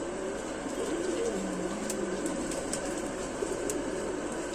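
An aged pigeon with a waxy beak, a Rampuri mom-chonch bird, gives a soft, low coo partly buried in steady broadband background noise.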